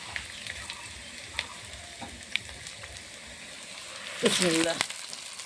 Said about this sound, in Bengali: মাংস তেলের উপর দিয়ে ভেজে নিচ্ছি।